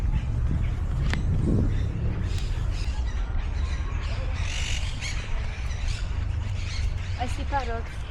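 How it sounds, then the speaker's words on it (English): Parrots squawk in a city park, with a few short harsh calls, mostly late, under ongoing talk and general outdoor noise. "I see parrots."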